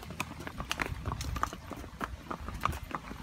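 Horse hooves clip-clop in a steady, uneven rhythm close by, sharp knocks on a hard surface with no talking.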